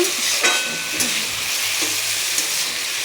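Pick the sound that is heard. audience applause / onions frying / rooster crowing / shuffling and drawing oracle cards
onions frying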